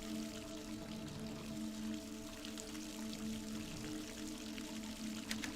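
A tap left running in the Dead Secret Circle video game gives a steady, even stream of water, quiet and continuous, with a faint hum behind it.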